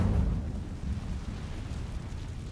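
The Incendio fire spell from Hogwarts Legacy gives off a rumbling, whooshing burst of flame that fades into a continuous low roar for a couple of seconds.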